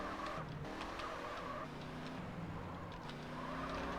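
A car skids in the video game GTA San Andreas, with engine drone and tire squeal over a constant background roar, and several sharp skid noises on top.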